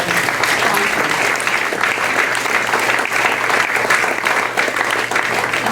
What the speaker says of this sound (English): Can we have some applause, please, for the sponsors?